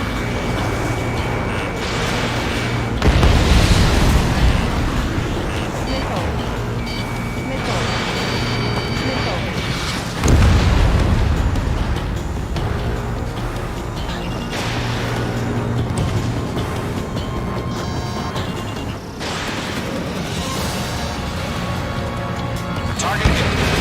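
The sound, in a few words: missile explosion hitting target in Ace Combat 7 video game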